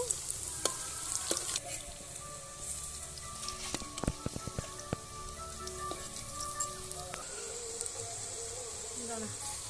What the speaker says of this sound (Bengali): তেল গরম করে নিয়েছি এরপরে এগুলোকে মুঠো মুঠো করে ভেজে নেব